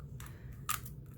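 A cutter knife slices a slit in a phone holder project with two quick, close scraping strokes, the second sharper and crisper, over a faint steady low hum.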